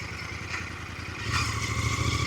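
A motorcycle without headlight or indicators passes near the India–Nepal border, its engine clattering and rising in a steady rumble, with no talk.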